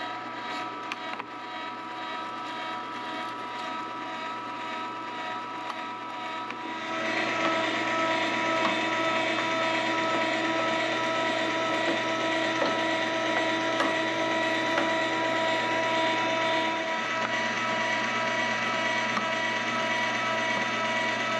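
An electric meat grinder grinds boar meat for sausage, a steady loud motor drone with a whirring mechanical hum and faint clicking that steps up louder partway through and runs on without talk.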